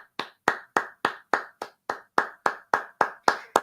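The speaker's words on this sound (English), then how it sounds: "Can we clap it up, Gary Sanchez?" A steady run of sharp, close hand claps, about a dozen in under four seconds at an even brisk pace, with no talking over them.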